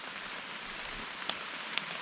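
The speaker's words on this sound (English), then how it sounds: "It's raining a little bit." Light rain pattering softly and steadily at a woodland campsite in Georgia, with a couple of sharper drops landing close by on a tent or tarp.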